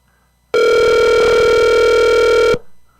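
A telephone rings with a single loud, steady electronic tone that holds for about two seconds and then cuts off, leaving a quiet room.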